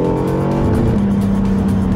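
A Honda NSX Hybrid SH-AWD supercar drives hard on a race track, its engine loud and close with a steady droning tone that drops in pitch midway.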